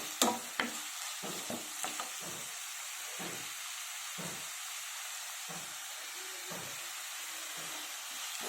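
Potatoes frying in a pan give a constant soft hiss, broken by repeated spatula scrapes and knocks every second or so, fairly quiet and close with no talking.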